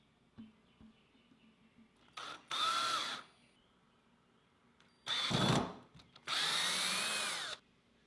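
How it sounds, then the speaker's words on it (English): Power drill set on high drives wood screws into pieces of a desk leg, three separate close whirring bursts of a few seconds each with quiet handling sounds between them. "like to set my drill to around 14 and leave it on high when I'm attaching screws"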